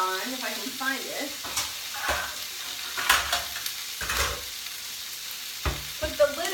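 Tomatoes being stirred in a cooking pot make repeated scraping and clinking strokes of a spoon against metal, some muffled, over a low simmer, close up, with brief faint voice fragments at the start and end.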